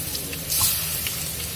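Chicken and garlic frying in a pan, a steady sizzle with soft crackles and a brief burst of louder spattering, close up and without talk.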